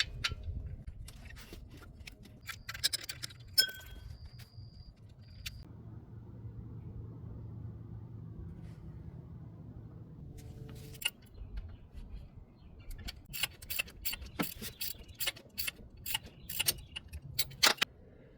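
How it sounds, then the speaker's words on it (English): Metallic clicks, ratcheting and tool rattles come and go while pulley bolts are removed with a 13mm socket and extension on a 2013 Chrysler 200, with quiet stretches between bursts and no talking. "To remove the pulley, remove the bolts"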